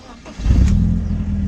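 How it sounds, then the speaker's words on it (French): A newly bought BMW E36 fires up: a brief crank, then the engine catches and settles into a loud, steady idle that rumbles on close by. "Attention, démarrage."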